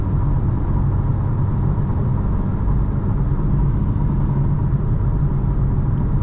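Inside a 2025 BMW M4 Competition xDrive on the road, a steady deep engine and road rumble drones continuously at constant loudness, with no talk.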